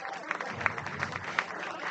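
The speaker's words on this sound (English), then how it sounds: "A round of applause for Peyton Tipton" A crowd claps at a youth baseball game in a tournament, a short, moderately distant ripple of applause with a few sharper individual claps standing out.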